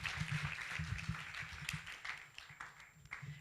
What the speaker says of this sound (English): let us give a big round of applause for all the presenters once again